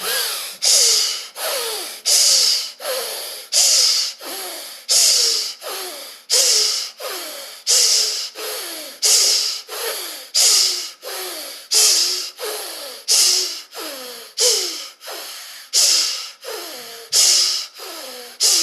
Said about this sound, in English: Exhale everything out. Inhale, begin.